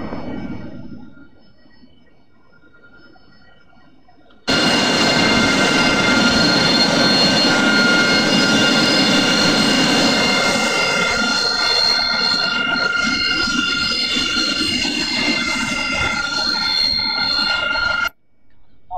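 A jet aircraft taxiing in the flight sim DCS World gives a loud, steady engine roar with a high whine, rising abruptly after a quieter start and holding constant before cutting off near the end.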